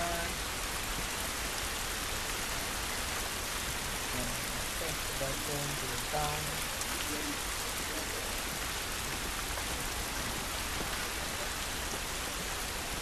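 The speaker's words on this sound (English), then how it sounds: "This rain ain't gonna do us any good." Steady, even rain pouring down outdoors in The Last of Us video game, a broad continuous hiss of drops filling the whole scene, with a voice speaking briefly over it partway through.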